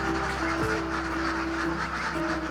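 Ducks at a village duck farm in Aceh quack continuously as a dense, fairly loud flock, their calls overlapping into a steady chatter.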